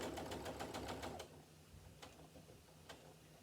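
A domestic sewing machine back stitches fabric for an Italian Renaissance costume, a fast steady run of needle strokes for about a second, then a few isolated mechanical clicks over low motor hum.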